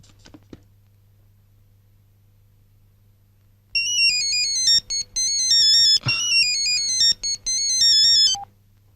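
A telephone ringtone plays during an outgoing call, a loud repeating electronic melody in short bursts with brief gaps, heard close after a few faint clicks and near silence, with no talking.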